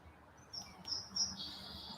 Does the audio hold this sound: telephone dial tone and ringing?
no